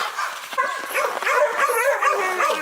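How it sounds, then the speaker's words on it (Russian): A hunting laika at a kennel barks and yelps, a loud, close run of high excited barks and whiny yips that goes on without a break. "Медведя лает."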